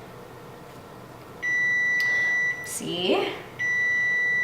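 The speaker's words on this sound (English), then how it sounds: "My oven's gonna start beeping at me any minute" A steady electronic oven timer tone sounds continuously, pauses briefly while a person speaks over it, then resumes.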